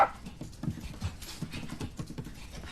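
A dog indoors pants in quick uneven bursts with soft whimpering and light scuffling, faint and close, with no clear speech.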